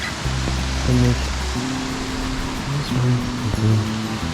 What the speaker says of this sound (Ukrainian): водоспад Кізя внизу.